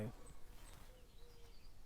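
Insects such as bees or flies drone faintly in a garden, a steady thin buzz with a few passes rising and fading, heard alone at low level.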